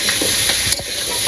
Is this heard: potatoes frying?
yes